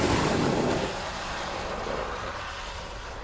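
Ryanair Boeing 737 MAX 8 aircraft at Dublin Airport, a broad steady roar, a bit louder in the first second and then holding at an even, fairly distant level for a few seconds.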